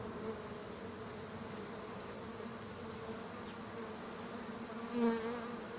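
A swarm of honeybees streams out of an opened hive, making a continuous soft buzzing drone with one bee passing close by near the end; no one speaks.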